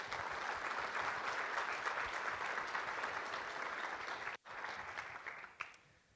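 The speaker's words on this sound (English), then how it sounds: "give them a round of applause" A keynote audience at a conference applauds in a dense, sustained wave of clapping. It drops out briefly, returns, then fades at the end.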